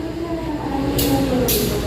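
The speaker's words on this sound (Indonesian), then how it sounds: "Dengan lokomotif CC 2018354 Depo Induk Jember teman-teman" CC 201 diesel locomotive of the Jember depot hauling the Airlangga train at Bojonegoro station: a steady low engine drone with two short bursts of hissing air close by.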